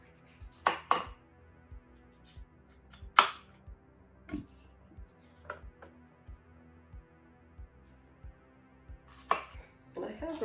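A knife slicing vegetables on a cutting board during meal prep, quiet sparse taps and a few sharper knocks and clatters spread irregularly, close and soft with no speech.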